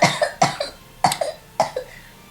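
A gamer with a worn voice coughs repeatedly, four loud, close, harsh bursts in a row, each with a short follow-up hack, separated by brief pauses.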